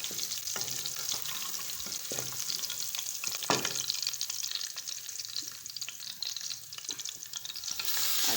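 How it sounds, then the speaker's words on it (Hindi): Garlic frying in a pan alongside rice and salt makes a dense, continuous sizzle, close and fairly loud, with occasional knocks of a utensil against the pan. "अब मैं ये इसमें लहसुन डालूँ। इसको तकरीबन 2 से 3 मिनट फ्राई करते हैं।"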